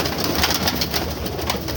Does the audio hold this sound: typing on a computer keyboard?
no